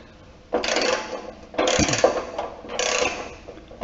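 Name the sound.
ratchet removing 8 mm muffler bolts on John Deere L130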